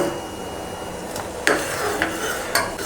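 Spoon stirring milk custard with sago in a cooking pot, a soft scraping swish underneath with a few sharp clinks of the utensil against the pot's side, close and moderately loud.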